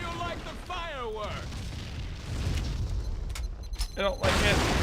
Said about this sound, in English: I don't like it, because there are just so many explosions.